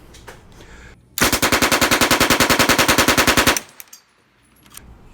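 A Sten Mark II submachine gun fires one loud, sustained burst of about twenty-five rapid shots lasting over two seconds, with a brief echo and faint handling noise afterward.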